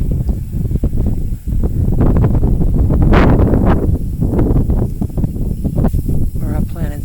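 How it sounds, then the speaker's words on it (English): Strong storm wind gusting through a garden, a loud continuous rushing and buffeting across the microphone with rustling foliage, while a person talks over it. "It's real windy from that storm."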